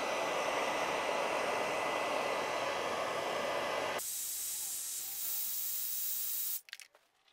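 A Jaguar XK8 washer jet sprays with a loud, steady broadband hiss for about four seconds, then a quieter hiss continues before stopping abruptly, followed by a few faint clicks and near silence.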